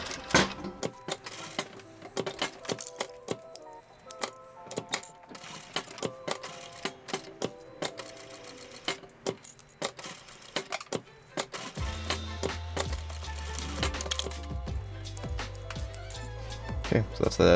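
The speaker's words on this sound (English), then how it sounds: "So I'm gonna go ahead and sew that right now." A sewing machine stitches a box X pattern on a sandal's toe-plug strap, running in dense mechanical bursts throughout, with a heavier low machine drone toward the end.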